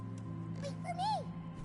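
A cat meows once in the video game Pragmata, a clear rising-and-falling cry with a short chirp just before it, over a steady low background hum.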